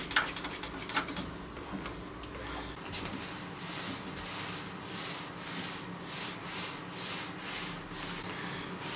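Hard wax oil top coat is rubbed by hand onto Ercol wood furniture in a soft, steady back-and-forth swishing, faint and close, with no talking.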